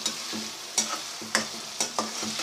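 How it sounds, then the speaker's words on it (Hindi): Onions frying in hot oil for a green bean and potato curry, with a steady close sizzle and regular scrapes of a spoon stirring the pan roughly every half second. "हो गया है गरम, अब हम इसमें प्याज डाल देंगे। प्याज डाल दिए जी"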